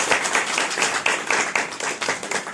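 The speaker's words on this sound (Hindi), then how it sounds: "ज़ुहैब भाई के लिए भरपूर तालियां" Audience claps for Zuhaib in a short burst, distinct individual hand claps audible in an uneven rhythm, fairly close and lively.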